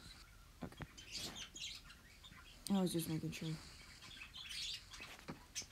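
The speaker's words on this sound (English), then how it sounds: "sorry if you can hear my birds in the background." Pet birds chirp and tweet quietly in the background in a room, with a brief burst of louder calls while a person talks over them.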